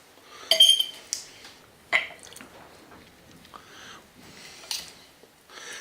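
A knife cuts smoked boneless pork ribs on a board, giving a few sharp clinks and taps spaced apart over soft, quiet handling noise.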